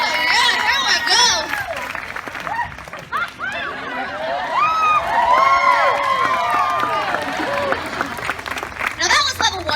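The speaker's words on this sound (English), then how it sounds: "Now that was level 1 round of applause." Audience at a renaissance fair erupts in loud applause and cheering with whoops and shouted voices, a dense sustained crowd roar lasting several seconds.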